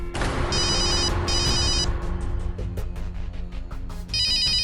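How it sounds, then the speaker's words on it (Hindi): A telephone rings with a call from a hospital emergency number, a loud electronic ringtone repeating in regular bursts, with low rumbling thuds and background noise between rings. "अरे ये तो अस्पताल से फोन आ रहा है"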